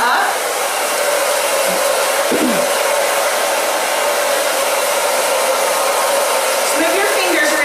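A handheld hair dryer runs steadily and close by while drying a client's hair during styling, a constant loud broadband whoosh with a faint voice briefly underneath.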